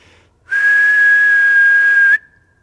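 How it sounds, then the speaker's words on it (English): A single loud, steady whistle at one pitch calling a dog in winter woods, held for about a second and a half before cutting off. "So I've been whistling for him."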